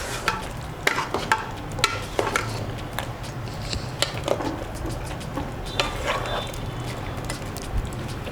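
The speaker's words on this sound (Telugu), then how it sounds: "దీన్ని కూడా మెల్లగా ఇలాగా అంటే ముక్క విదిలిపోకుండా ఇలా మెల్లగా కలుపుతూ ఉండండి" A spoon stirs chicken curry masala in a pressure cooker with steady, repeated scraping strokes against the metal pot, close and continuous, with a soft sizzle underneath.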